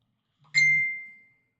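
A phone chimes once with a short bright tone that rings briefly and fades in a quiet room.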